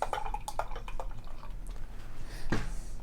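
Scottish wee-heavy beer aged with apple brandy pours into a glass, giving a soft liquid splash with a few dripping taps and a fuller gush near the end, close and moderately quiet.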